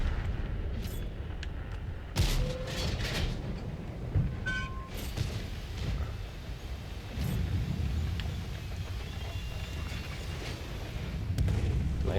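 Artillery shells landing around a tank in World of Tanks, with a few sharp booming impacts over a constant heavy rumble of engine and battle noise, and no talking.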